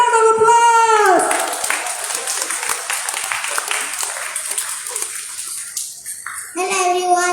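An audience applauds for an 8-year-old storyteller at a children's storytelling competition. The clapping is loud and fills the middle of the clip, with a voice speaking just before and again as the applause fades.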